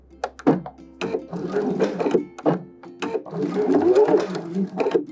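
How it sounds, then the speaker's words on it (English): A sewing machine stitches in the ditch along a fabric seam, then back stitches, giving short buzzing runs that stop and restart, close and moderately loud. "And we are going to back stitch on this."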